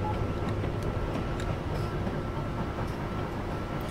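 An Amtrak AEM-7 electric locomotive in Train Simulator 2019, accelerating on the run from Philadelphia to Trenton, with a steady loud rumble and rail noise throughout.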